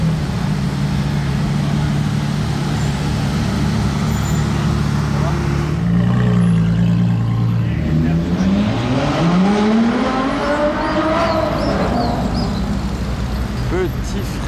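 A car braking hard on a Monaco street during the Grand Prix weekend, loud engine and road noise dropping in pitch as the car slows, with a rising engine note after and a voice talking over it.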